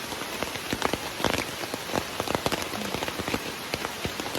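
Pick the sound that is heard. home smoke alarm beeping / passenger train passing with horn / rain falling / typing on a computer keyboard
rain falling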